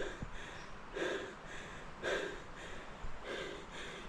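Heavy, labored panting from someone hiking uphill on a steep trek, with four rhythmic breath bursts about a second apart, close to the microphone and otherwise without talk.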